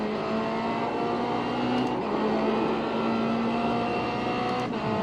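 Race car engine in the iRacing game at Phillip Island, revving steadily as it powers out of the hairpin, a constant loud droning tone with no talk.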